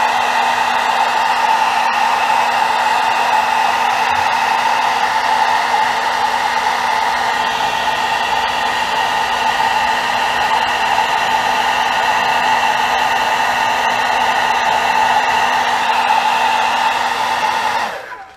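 A heat dryer blows hot air to dry airbrushed paint on a stencil, a loud, steady, continuous whir with a constant hum, running close by for the whole stretch before cutting off at the end.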